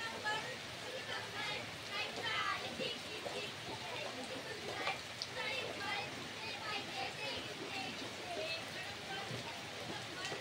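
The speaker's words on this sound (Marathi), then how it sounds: "फुल पाऊस पडतोय" Heavy monsoon rain falls at a farmhouse in Karjat, a dense, steady patter and wash of water on surfaces throughout, fairly soft overall, with indistinct voices mixed in.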